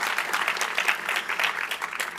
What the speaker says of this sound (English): let's give Danny a round of applause